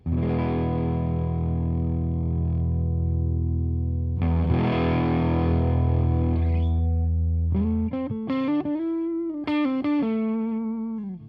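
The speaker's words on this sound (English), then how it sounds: "it's a fairly mellow fuzz at this point, and it's fairly sort of dull sounding" A muted, mellow Stratocaster through a Fuzz Face style pedal plays two long sustained chords, then a run of short bending single notes, all with a dull, soft-edged tone.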